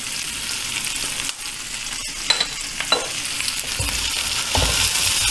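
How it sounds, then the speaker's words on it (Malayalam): Small onions with salt frying in a pan for a drumstick and tomato curry, with a steady close sizzle broken by scraping stirring strokes from a utensil. "ചെറിയ ഉള്ളി ഒന്ന് വാടി വരുന്നവരെ, ഒരു ചെറുതായിട്ടൊന്ന് നിറം മങ്ങുന്നവരെ ഒന്ന് ഇളക്കി കൊടുക്കുക."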